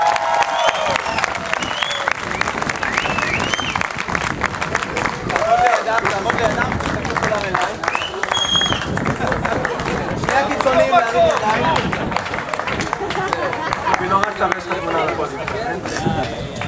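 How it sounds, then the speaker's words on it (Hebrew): An audience at a running-race prize ceremony in Eli claps for the runners, a dense, continuous burst of applause close by that lasts the whole stretch, with a crowd murmur and voices under it. "חבר'ה, מחיאות כפיים לרצים."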